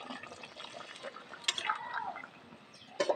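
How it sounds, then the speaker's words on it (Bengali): Spice-rinse water is poured into a simmering chicken curry, a light liquid trickle and splash under faint kitchen background, with a brief stronger pour near the end. "আমি কিন্তু এই মশলা ধোয়ার জলটাই দিয়ে দেবো।"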